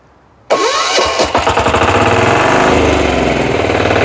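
A Weima engine on a Motor Sich walk-behind tractor fires up abruptly after a quiet moment. Its first pulses are sputtery, then it settles into a loud, close, rapid chugging run.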